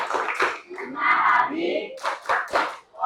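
A school class claps a rhythmic spirit clap as an ice-breaker, sharp bursts of hand claps in a pattern with a voice and chanting woven between them.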